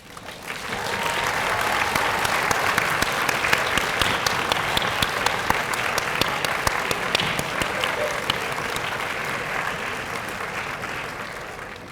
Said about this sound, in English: let's take a moment to turn and thank your people with a resounding round of applause as well.